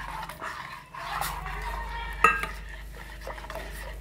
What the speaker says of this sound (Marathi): आता आपण ह्यात पीठ असं मिक्स करून घेऊया नाचणीचं।